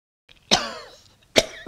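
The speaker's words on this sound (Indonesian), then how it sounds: "kalau batuk itu minum" A person coughs twice, each a sharp, loud burst, the first trailing off raspily and the second following about a second later, with no other sound around them.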